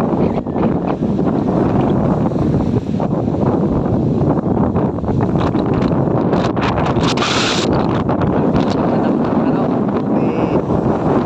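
Strong wind by the sea roars steadily across the microphone, loud and buffeting, with gusts and faint rustling throughout.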